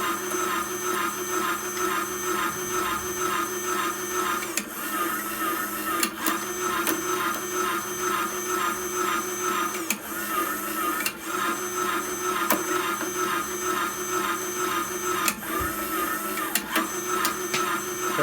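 A homemade plastic shredder grinds plastic at its widest teeth setting, a steady loud mechanical whir with repeated sharp crunches and clicks as pieces catch and break, running continuously without talk.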